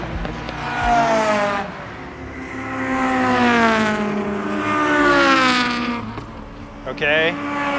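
A Mitsubishi Evo race car on a time attack lap at a Gridlife event: loud, close engine note climbing and falling through repeated revving sweeps and gear changes, with a sharp high burst near the end.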